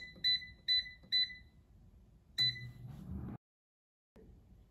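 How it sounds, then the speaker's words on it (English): Air fryer signalling the end of cooking frozen pretzel bites with four loud, close electronic beeps, three in quick rhythm then a fourth after a pause, over faint handling noise. "Now the air fryer is done cooking"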